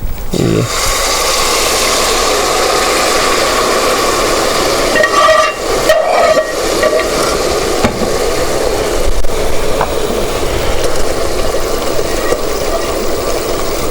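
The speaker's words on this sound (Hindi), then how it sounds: "अब हम इसके अंदर शीरा ऐड करेंगे। ये शीरा इसके अंदर जाएगा।" Sugar syrup poured into a roasted mixture in a cooking pan, giving a steady, loud sizzle with stirring and scraping that runs throughout, brief bubbling bursts partway through.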